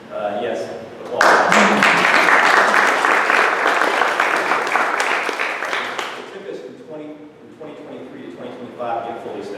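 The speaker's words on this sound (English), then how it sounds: "thank goodness, yes, applause" A council meeting audience breaks into loud, sustained applause that swells after a brief pause, holds steady for several seconds and then tapers off, with some talk heard before and after it.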